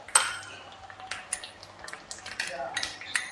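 A spoon stirs chili powder and salt together in a bowl while making fried macaroni chips, giving close, irregular clinks and scrapes against the dish with no talk.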